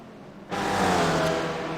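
A string of race cars in the iRacing sim at the Montreal circuit arrives with a sudden rush of engine noise, swelling into a loud, sustained whir as the pack passes close by.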